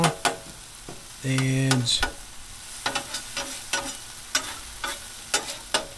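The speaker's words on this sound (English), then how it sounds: "we're going to chop this up as much as we can. As it cooks, you see it's starting to get a little brown." Steak sizzles on a Blackstone 22-inch griddle while a metal spatula chops it, with sharp repeated clanks and scrapes over a constant frying hiss, close and clear, plus a brief tonal beep and a single spoken word.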